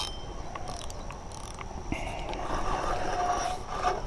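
A fishing reel's drag clicks steadily as a carp pulls line at a small pond, a continuous ratcheting whir that grows slightly louder midway, with no talking.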